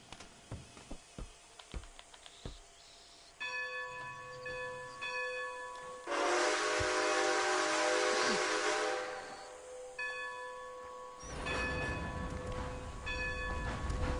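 A steam locomotive in Red Dead Redemption 2 with ringing bell-like tones, then a loud sustained hiss of steam over a low rumble, followed by more bell tones and mechanical clatter. No voices are heard.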